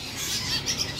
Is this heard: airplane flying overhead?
no